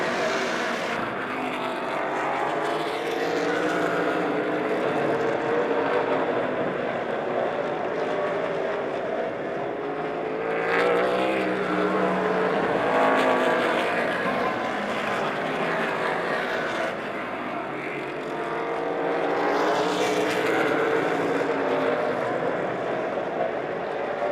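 Race cars circling Lebanon I-44 Speedway during a Faster Pastor memorial race produce a continuous engine roar with periodic swells as cars pass, steady and fairly loud throughout with no talk.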